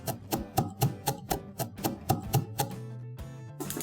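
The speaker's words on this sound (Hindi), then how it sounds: "2 चम्मच अक्खा धनिया। इसे हम पीस लेंगे दरदरा।" Whole coriander seeds being coarsely ground in a kitchen, heard as a rapid series of sharp, loud, evenly spaced knocks and crunches, close and with no voices.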